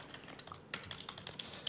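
Typing on a computer keyboard: quiet, close, rapid key clicks in short irregular bursts, with no voices.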